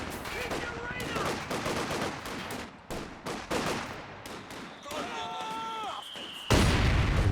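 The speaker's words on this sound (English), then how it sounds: "Mortar finally does force that away." Mortar blasts and rattling gunfire from a 1v1 Company of Heroes 2 battle between the Soviet-allied OH and US factions, with dense, overlapping bursts throughout and a loud, sudden explosion near the end.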